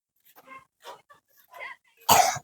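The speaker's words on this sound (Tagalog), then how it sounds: "Yun po, inuubo." A few soft, quiet voice fragments lead into one sharp, louder cough near the end.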